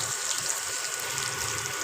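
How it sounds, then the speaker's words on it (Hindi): Water pours into a cooking pot holding chili, turmeric and dried coriander for chicken biryani with potatoes, a soft steady gushing splash, close and fairly quiet, with no talking. "इन सारी चीज़ों के साथ मैं इसमें थोड़ा सा पानी डाल दूँगी।"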